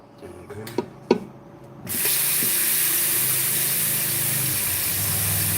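A few clunks of a pot being handled in a home kitchen, then a kitchen tap bursts on and fills the pot for grits with a loud, steady, close gushing spray that continues to the end.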